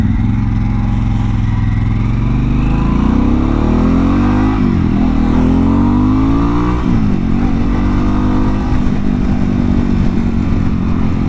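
A Harley-Davidson Pan America motorcycle engine rumbles loud and near during slow, balanced low-speed manoeuvres, its pitch rising and falling with gentle throttle changes and no voices over it.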